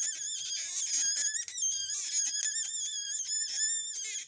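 A polymer clay extruder pressing out clay snakes makes a shrill, whining squeal that wavers in pitch and keeps on for several seconds, close and fairly loud, with no talk.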